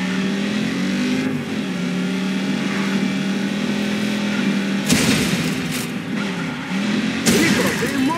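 A car accelerates in the video game Just Cause 3, its engine roaring steadily and loudly with shifting revs, broken by a couple of sharp bangs or impacts near the end.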